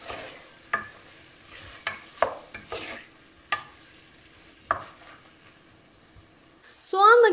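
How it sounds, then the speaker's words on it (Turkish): A chopped large onion fries with meat in olive oil for a meat and pea stew, a soft sizzle broken by scattered spoon scrapes and clinks, ending in a louder clatter. "Büyük boy yemeklik doğradığım bir tane soğanı da etin üzerine alıp soğanla birlikte kavurmaya devam"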